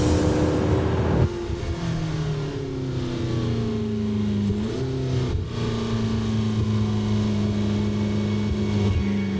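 A McLaren 650S sports car engine revs and accelerates hard through several gear changes, its pitch climbing, dropping at each shift and climbing again, loud and close throughout.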